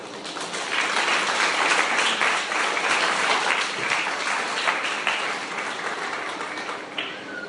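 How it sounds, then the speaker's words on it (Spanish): Church congregation breaks into applause, a full, fairly distant round of clapping that swells quickly, holds steady for several seconds, then gradually tapers off. "Dale un aplauso al Rey."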